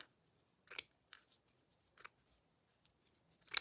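Scissors snip through a strip of ribbon while a small craft bow is being made, giving a few quiet, crisp cuts separated by pauses, close by in a near-silent room.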